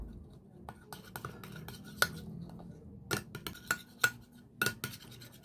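Coffee and egg face mask being mixed in a small bowl, giving a string of soft clinks and scrapes of a utensil against the bowl, a few sharper taps standing out over quiet room tone.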